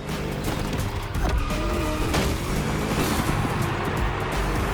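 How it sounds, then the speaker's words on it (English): A Ford Mustang V8 races in the driving game The Crew Motorfest, its engine a continuous low, throaty roar that holds steady and loud close by, with a few sharp knocks along the way. "Just listen to that V8, like a chonky, down-tuned guitar riff."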